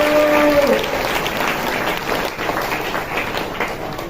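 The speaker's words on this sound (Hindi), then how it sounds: "ताली बजा के परमेश्वर का धन्यवाद करो" A church congregation claps together in thanksgiving during a Hindi sermon, a dense, steady round of applause with a brief voice at the start.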